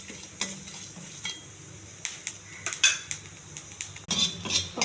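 Chana dal and cumin tempering frying in a pan for a tomato putnala chutney: a faint, low sizzle under repeated clinks and scrapes of a spoon stirring against the pan, with no voices.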